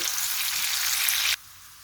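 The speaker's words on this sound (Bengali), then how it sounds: "এই তেলে আমি পেঁয়াজ দিয়ে দিব। পেঁয়াজটা একটু নেড়ে নিব।" Onions frying in hot oil give a loud, dense, continuous sizzle up close, which stops abruptly near the end and leaves only faint room tone.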